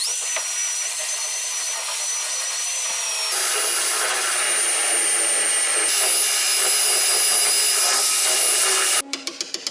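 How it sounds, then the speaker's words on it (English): A steady, high-pitched drill with a spot weld bit whirs continuously while boring into Subaru car body metal, its pitch shifting slightly a few times before stopping into a few sharp clicks. "So we're using a spot weld drill bit."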